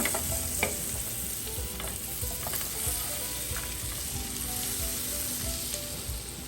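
A cube of butter melting in olive oil in a pan, giving a steady, close sizzle with a few soft clicks and spatters, and no voices.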